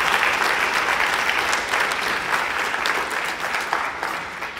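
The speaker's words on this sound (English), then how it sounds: "A huge round of applause for them." A concert audience at a high school jazz band performance applauds the facility staff, a dense, steady wash of clapping that holds at an even loudness for several seconds before easing slightly at the end.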